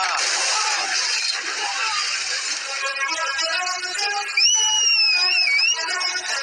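A sharp, high whistle rises and bends in a long melodic phrase near the end, preceded by a dense, noisy background in a dubbed South Indian action film scene.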